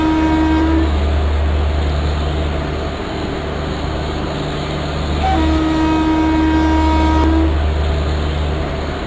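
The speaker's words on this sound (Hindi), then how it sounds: "सो हॉर्न बजा के यहाँ से अब डिपार्ट करते हैं." The Patna–Shalimar AC Duronto Express sounds its horn as it departs Patna in the Open Rails train simulator: two loud, sustained horn blasts over a steady, rumbling locomotive engine drone.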